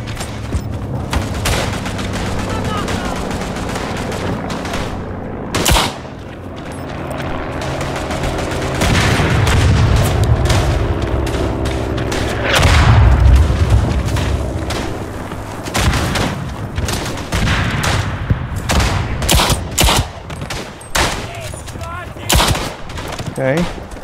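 Loud, dense gunfire from the WWI shooter Tannenberg on a Poland map, rifle and machine-gun bursts with heavy booms rattling continuously while a farmhouse full of Romanian enemies is cleared, a voice speaking now and then beneath it.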